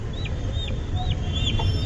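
A hen clucks near her chicks in a run of short, close clucks, with thin high peeps mixed in between them.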